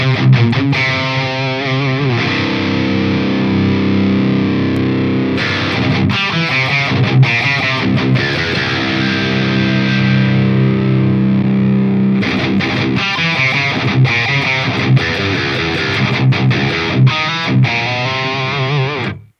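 Distorted electric guitar recorded through a Shure SM58 paired with an E906 impulse response, loud sustained chords and riffs with brief gaps and choppy palm-muted bursts, played alone without talking.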